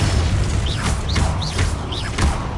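Confringo and Incendio fire spells cast in Hogwarts Legacy on PS5: repeated loud magical bursts with booming impacts and rising whistling sweeps, several casts in quick succession over a dense, rumbling game soundscape.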